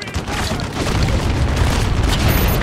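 A mortar explosion in Spec Ops The Line, a loud, deep boom swelling into a dense, sustained rumble that fills the whole moment, with a voice faintly present.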